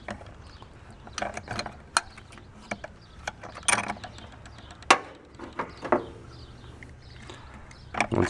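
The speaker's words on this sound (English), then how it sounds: "we're going to be using a 3/4 inch drive to remove it" A ratchet on a 3/4 inch drive loosens the coolant temperature sensor on a Lexus ES350, giving sharp, close metallic clicks in irregular bursts over a quiet background, with no talking.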